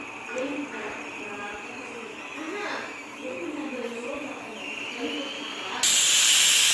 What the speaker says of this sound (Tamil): பாருங்கள் 3ஆவது விசில் வந்து.